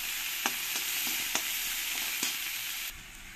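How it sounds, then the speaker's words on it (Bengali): Chopped onions fry in a pan for a Bengali fish curry, a soft, steady sizzle punctuated by a few sharp scrapes of stirring, fairly faint and with no voices. "পেঁয়াজটাকে দিয়ে ভালো করে পেঁয়াজগুলোকে আমি লাল লাল করে ভেজে নেব।"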